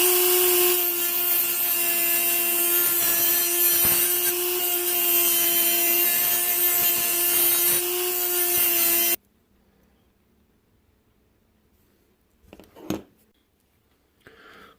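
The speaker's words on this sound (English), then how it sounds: "This is a metal base, so I'm going to have to grind down in there to open up that channel" A rotary grinding tool cuts a channel into the metal base of a 1963 Chrysler Turbine diecast model car, a steady loud whine that runs for about nine seconds before stopping abruptly, followed by near silence and a brief handling clatter.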